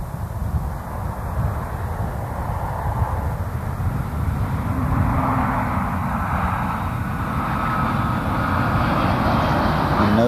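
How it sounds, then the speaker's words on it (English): Space Shuttle Endeavour, returning from mission STS-72, rolls out on runway 15 at Kennedy Space Center with a loud, continuous low rumble and broad roar that swells slightly midway, heard at a distance with no voices. "Endeavour rolling out on runway 15 at the Kennedy Space Center"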